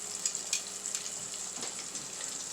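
Chicken nuggets fry in hot oil in a pan over medium heat, giving a steady, soft sizzle with faint crackles throughout and a brief louder knock right at the end.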